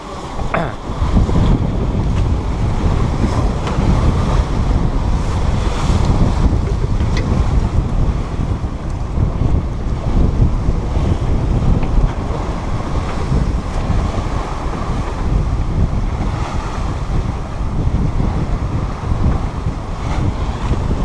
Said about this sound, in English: I want to take the camera out and let you see what some of the waves look like.